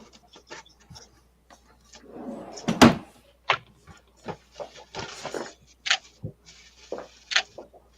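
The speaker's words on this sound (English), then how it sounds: "Did you hear that? That was Steve going into his huge drawers of stuff" Drawers crammed with stuff are opened and rummaged, giving a series of irregular knocks, rattles and clatters at close range, with one louder thump in the middle and no talking.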